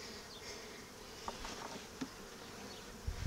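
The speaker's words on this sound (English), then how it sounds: "the bees are building up the comb, and then they'll attach it at the bottom" Honey bees build comb at a hive, producing a soft, continuous buzz with a few closer passes. The sound is faint and heard alone.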